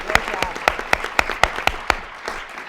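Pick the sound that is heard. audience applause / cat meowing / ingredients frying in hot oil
audience applause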